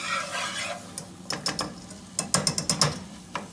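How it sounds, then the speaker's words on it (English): Meatloaf ingredients get whisked in a bowl, making short clustered bursts of clicking and tapping with brief pauses between strokes. The sound is fairly quiet and close, and no one talks. "Okay, and then you're going to whisk these 3 ingredients together."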